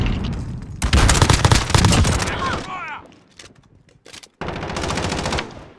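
Rapid automatic gunfire in a Modern Warfare multiplayer match, loud and close in two long sustained bursts separated by a short lull with scattered shots, and a voice briefly cuts in between bursts.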